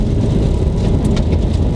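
Road and suspension noise heard from inside a 2008 Subaru WRX narrow body, a loud, steady low rumble and whir of tyres and engine throughout.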